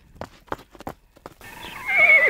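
A horse gives a few short snorting and hoof sounds, then breaks into a loud, high whinny that rises and falls over the last second.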